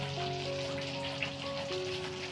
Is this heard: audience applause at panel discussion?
no